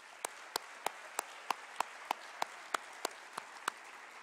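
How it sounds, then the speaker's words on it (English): Sparse, evenly spaced claps sound faintly for sponsors at a State of the City 2018 event, about a dozen sharp single claps at a slow steady pace over a quiet background. "Let us give them a round of applause for their support."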